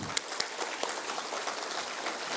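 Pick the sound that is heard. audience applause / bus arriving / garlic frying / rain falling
audience applause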